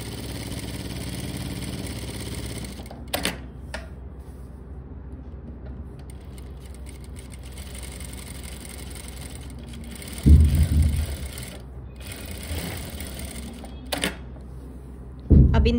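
An electric sewing machine stitches strips for a formal pant pocket, a steady mechanical whir running under continuous stitching with brief louder thumps and clicks at intervals, no voices.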